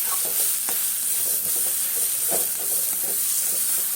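Pointed gourd mash is stirred in a hot pan, a continuous hissing sizzle with soft scraping strokes of the spoon against the pan bottom.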